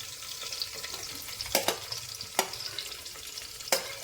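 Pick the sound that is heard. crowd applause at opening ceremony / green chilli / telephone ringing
green chilli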